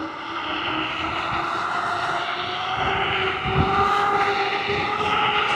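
A Gotrax GX2 off-road dual-motor electric scooter cruising down a highway gives a sustained, layered motor whine with steady tonal bands over road and wind rumble, rising slightly in intensity toward the end.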